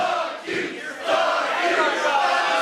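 A wrestling arena crowd at a live ROW event roars in a loud, displeased wave of shouting and jeering, with a brief dip before the noise swells again and holds steady.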